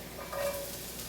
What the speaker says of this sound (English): sizzles when you drop it in